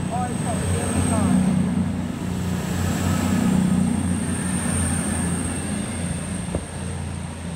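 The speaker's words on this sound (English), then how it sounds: "Northern electric leaving Wigan North Western." A Northern electric train pulls out of Wigan North Western station, a steady low rumble and hum with a high whine running throughout, fairly close and continuous, with a brief clank near the end.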